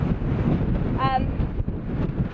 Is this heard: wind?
yes